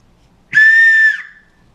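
A small survival whistle worn on a necklace gives one loud, shrill, steady blast of about two-thirds of a second, then trails off quickly in a quiet room.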